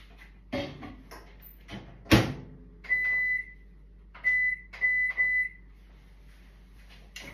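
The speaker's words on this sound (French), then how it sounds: "Je reviens, je vais au micro-ondes." A microwave oven melting chocolate and cream: its door clicks and thumps shut, a short beep sounds, then a string of three or four beeps follows, clear and close in a quiet room.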